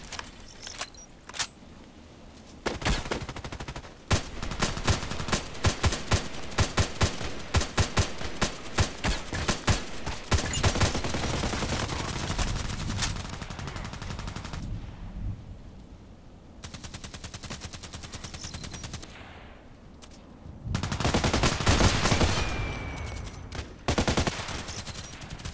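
HK417 rifle fired in a video game, a long run of sharp, evenly spaced shots, then quieter stretches and a final louder volley, with no talking.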